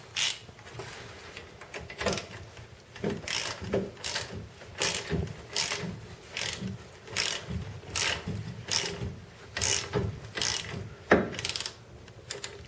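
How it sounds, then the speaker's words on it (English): Half-inch drive ratchet wrench with 17 and 18 millimeter sockets backing out strut bolts on a Volvo C70, giving steady rapid clicking in repeated strokes, close and clear with no voices. "now I'm going to take these 2 bolts out right here and this lower one at the end of this wrench"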